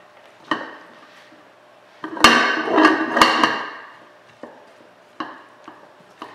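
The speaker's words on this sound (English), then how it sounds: "So what I'm going to do is I'm going to grab a pan." Metal pan picked up and set down in a kitchen while making vegetable spring rolls, giving a few sharp clanks and clatters with a loud burst of rattling in the middle and quieter knocks after.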